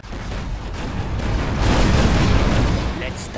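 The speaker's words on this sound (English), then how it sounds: "Inferno cannons loaded." Inferno cannon artillery in Command & Conquer Generals Zero Hour, a Chinese army battle, heard as a loud, sustained rumbling blast that swells in the middle and fades slightly toward the end.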